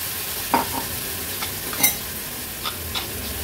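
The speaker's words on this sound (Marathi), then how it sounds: "हळद आणि मसाला तेलावर आपल्याला छान परतून घ्यायचे। नंतर हे भिजवलेले सफेद वाटाणे आणि बटाटा ऍड करते।" Turmeric and Agri-Koli masala sauté in hot oil with soaked white peas and potato, a steady close sizzle broken by a few sharp spatula scrapes and stirs against the pan.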